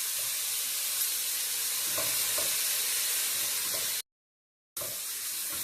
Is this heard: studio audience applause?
no